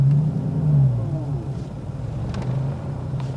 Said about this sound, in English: I'm gonna put it in third and I'm gonna roll out of this stop sign.